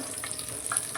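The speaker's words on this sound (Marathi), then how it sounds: "मी कढईत फोडणी देते" Mustard seeds, cumin, curry leaves and asafoetida tempering in hot oil in a wok for a potato dish, a soft steady sizzle with faint crackles and pops, heard alone at close range.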